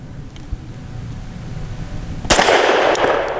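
A single sharp report from a Tisas Bantam 9mm snub-nose pistol firing a Federal Syntech 150 grain round, sounding close and loud after a quiet outdoor lead-in.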